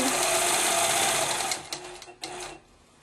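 Sewing machine quilting a pumpkin-seed pattern along a border, a loud continuous whirring stitch close by that stops abruptly, followed by brief stop-start bursts and quieter handling noise.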